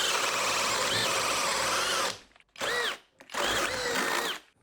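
A cordless power drill in drilling mode whines at high speed through a large bit, running loud and steady, then cutting out and firing again in two short bursts separated by near silence.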